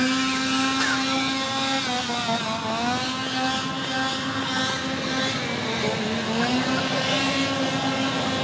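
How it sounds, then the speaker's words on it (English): Chainsaws with no chains fitted rev loudly and continuously at a walk-through scare attraction, the droning engine pitch rising and dipping over several seconds with no pause. "There were no chains on the chainsaws, they just made a lot of noise."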